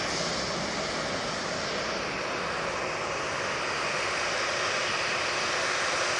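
A Jet2 Boeing 737-800 jet airliner at Manchester Airport roars steadily with broad, even engine noise that holds loud and constant for several seconds, no talking over it.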